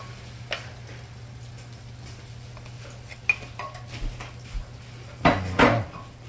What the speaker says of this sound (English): All the gravy is mixed, so she added it into her ground beef.